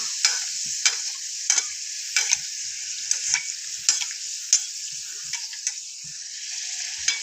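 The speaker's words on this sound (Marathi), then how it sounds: "पुरी सोडून द्यायची आहे तेलामध्ये व्यवस्थित म्हणजे दोन दोन पुऱ्या राहतील आणि झाऱ्याने वरून तेल टाकून घ्यायचं" Puris deep-frying two at a time in hot oil, a steady bright close sizzle broken by repeated sharp ticks and clinks as a slotted spoon ladles oil over them.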